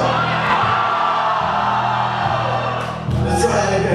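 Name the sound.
audience cheering at a live guitar gallery show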